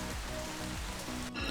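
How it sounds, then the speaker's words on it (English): Steady rain falling in Northern Vietnam, a dense continuous patter on surfaces with no voices, holding level throughout the short stretch. "fate had another plan for us and it started raining"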